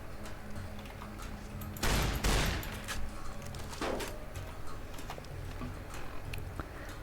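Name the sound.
shotgun fire against bandits in video game Fallout: New Vegas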